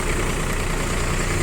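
A mini tractor with a front loader idles nearby, its engine giving a steady, loud, even rumble with a faint knocking texture and no change in pitch across the short stretch.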